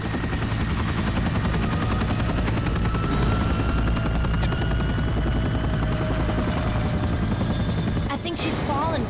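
Helicopter rotor drone from the video game 007: Everything or Nothing, loud and steady throughout, mixed with game sound effects and brief gunfire-like bursts, with a voice talking near the end.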